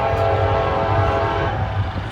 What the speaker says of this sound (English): Might be the Connersville local coming back. Sounds like the same horn as this morning.